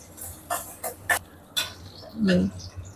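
Garlic and onions sautéing in a pan are stirred with a utensil, producing a series of scraping clinks and taps against the metal over a faint background, with a brief louder scrape near the end.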